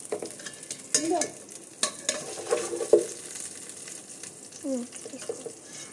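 Green chilies fried and stirred in a pan for veg pulao, with irregular spoon scrapes and clacks over a soft sizzle, close and moderately loud.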